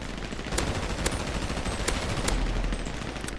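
Gunfire in GTA V on a FiveM server: four or five sharp single shots at uneven intervals, cracking over a constant loud rumble of background noise.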